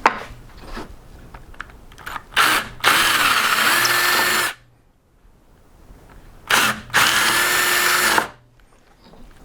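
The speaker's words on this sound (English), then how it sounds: "drill out the pilot holes with the large drill bit" A power drill with a large bit bores pilot holes through timber in two loud bursts of whining, grinding drilling separated by quiet pauses and softer handling noises.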